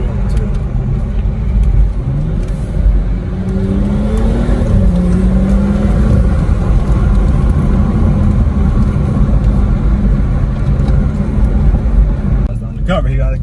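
A BMW F32 engine fitted with a Dinan intake gives a loud, steady rumble from inside the car, with a faint rising turbo spool whine, while people talk over it.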